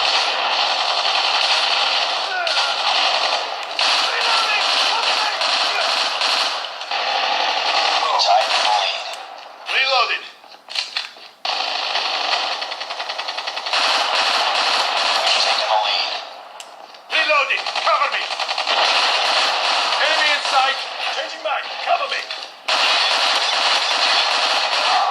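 Rapid bursts of video game gunfire and explosions from an Xbox cloud shooter streamed on a Samsung Galaxy Tab S7+, loud and nearly continuous with brief gaps, game voices calling out over the shooting.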